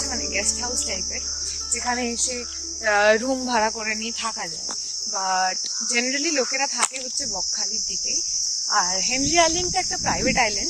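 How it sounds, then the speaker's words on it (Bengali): Crickets chirp in a steady, high, continuous drone around Henry Island near Bakkhali, surrounded by mangrove forest, while a person talks over them close to the microphone. "এটা পরিষ্কার ঝিঝি পোকার আওয়াজ আসছে।"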